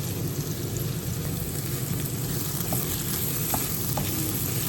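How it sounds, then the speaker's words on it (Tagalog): Egg frying with bitter gourd and sausage in a pan gives a dense, steady sizzle with a crackling hiss that stays even throughout, close and fairly loud with no talk. "Lagay natin yung itlog."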